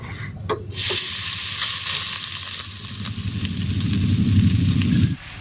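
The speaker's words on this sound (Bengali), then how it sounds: "এখন আমি এই তেলের মধ্যে দিয়ে দেব ভাত।" Cooked rice is tipped into hot oil and stirred for fried rice, giving a steady loud sizzle with scraping stirs over it that cuts off sharply near the end.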